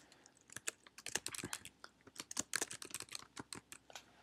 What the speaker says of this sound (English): I can type anything that I want right in here.